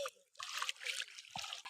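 River water trickles faintly through garden country in Assam, a soft, uneven splashing with brief gaps.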